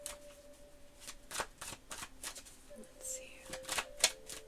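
Oracle cards are shuffled by hand in a string of quick, crisp riffles and slaps at close range, with a soft voice briefly speaking between them.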